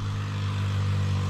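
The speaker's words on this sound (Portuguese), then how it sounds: "Acabou de passar uma moto." A motorcycle passes on the asphalt road beside a roadside campsite near a cemetery on the way to Paraty, a steady engine drone with a low hum holding through the short stretch, no talk over it.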